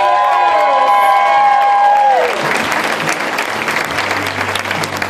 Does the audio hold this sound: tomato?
no